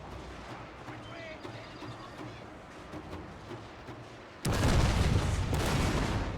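Artillery units fire in Total War: Fall of the Samurai. Scattered faint thuds over a low din give way to a sudden loud boom and a sustained roaring blast.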